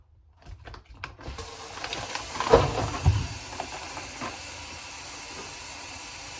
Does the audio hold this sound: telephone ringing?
no